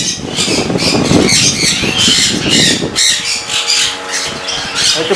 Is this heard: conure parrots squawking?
yes